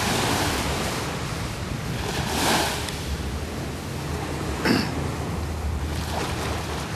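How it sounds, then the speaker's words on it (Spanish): Small ocean waves at night in Phuket wash in softly against a broad hiss of surf and wind noise, with a couple of gentle swells rising and falling and no voices. "las pequeñas olas."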